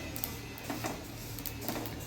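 Sesame seeds dry-roasting in a pan over a low gas flame give off faint, scattered pops and crackles above a steady low hiss.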